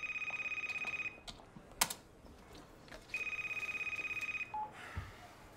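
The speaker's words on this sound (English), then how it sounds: "Because the phone's ringing." A telephone rings in two loud, close bursts of rapid electronic trilling, each lasting about a second, with a pause between them, plus a few soft clicks and thumps from a room, and no talking.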